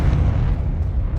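A Confringo spell explodes in Hogwarts Legacy, giving a loud, heavy, rumbling boom with crackling debris that holds through the whole short moment. No one speaks.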